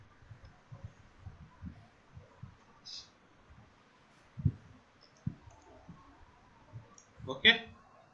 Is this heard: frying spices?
no